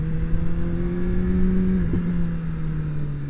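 A Suzuki Hayabusa motorcycle engine hums at low RPM under light throttle, a steady close, moderately loud drone whose pitch holds level and then briefly dips and settles after about two seconds.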